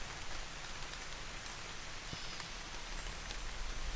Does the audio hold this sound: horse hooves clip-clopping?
no